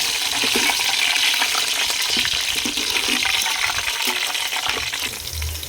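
Five slit green chillies drop into onions frying in oil for mutton biryani cooked over a wood-fired stove, giving a steady, loud hiss and crackle with a few small splashes and no talk.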